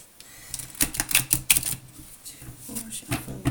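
Tarot cards being shuffled by hand, a run of quick crisp riffling taps and flutters in bursts with short pauses between, close and fairly soft.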